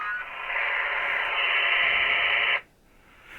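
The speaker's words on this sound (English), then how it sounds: "So you hear white noise when I unkey." A GMRS two-way radio hooked to a repeater gives a loud burst of white-noise static right after unkeying, a steady hiss lasting about two and a half seconds before cutting off abruptly.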